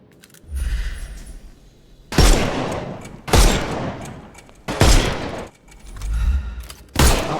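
Gunfire in the Sherlock Holmes Chapter One video game: five loud, sharp shots spaced about a second apart, each with a brief ringing tail, between low rumbling background sounds.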